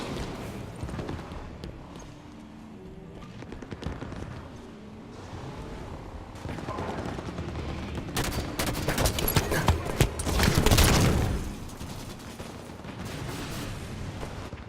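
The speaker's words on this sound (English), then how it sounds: "Enemy fire." Enemy gunfire in a Halo 5 Warzone match: rumbling battle noise with scattered shots builds to a dense burst of rapid fire, heard at moderate loudness over a steady background of game sound.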